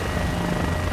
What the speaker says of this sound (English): We're in a helicopter